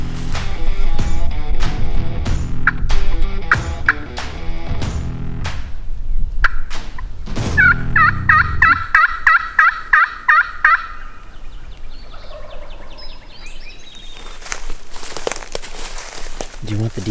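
Wild turkey calls during a spring turkey hunt on private land, a series of rapid harmonic gobble-like bursts amid talk and rustling movement, with clearer repeated call notes in the middle stretch.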